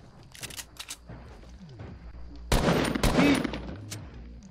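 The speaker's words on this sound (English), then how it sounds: "I'm trying to get him with the pistol." Pistol shots in a video game, rapid bursts of sharp cracks arriving in clusters, some closer and louder than others, with a heavier volley near the end.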